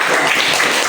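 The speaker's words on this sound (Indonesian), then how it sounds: "Tepuk tangan untuk kelompok." Under a second of steady, dense clapping from a group in a classroom after a group presentation, loud and close, with no talk.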